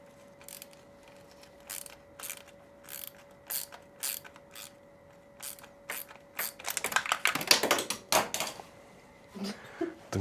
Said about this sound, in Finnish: Meni jotain 7 eri reittiä tuo räikkäpomppi.